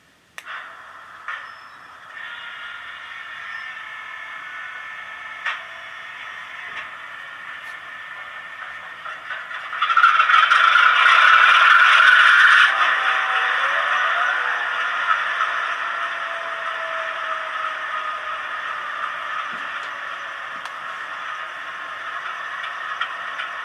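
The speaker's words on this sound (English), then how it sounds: "Let's turn the track power on and listen to the startup sequence." A Korea Brass HO-scale U25C model locomotive fitted with a TCS WOWsound decoder runs its startup sequence: clicks and hiss first, then a loud rumbling, rattling engine rise that settles into a steady idle drone with no voices.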